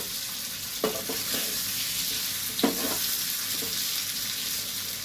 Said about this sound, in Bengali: আর আমি এখানে পনিরগুলোকে ভালো করে ভেজে নিচ্ছি।